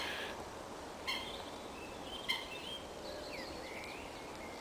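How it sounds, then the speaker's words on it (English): Birds call sporadically on an evening trail, a few short chirps and whistles rising faintly over a quiet outdoor hiss, with a couple of brief sharper notes standing out. "you can finish off for the evening listening to some birdsong"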